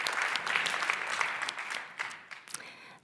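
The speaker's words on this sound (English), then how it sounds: "Is this not a moment for applause to Luomo?" Audience at a circular design programme closing event gives a short burst of applause, dense clapping that thins out and fades after about two seconds with a few scattered claps at the end.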